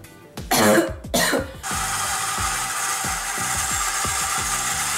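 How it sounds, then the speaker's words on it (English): A woman coughs twice in quick, loud bursts close to the microphone, followed by a steady mechanical rattle with a regular ticking rhythm. "Okay, pause. I have to cough."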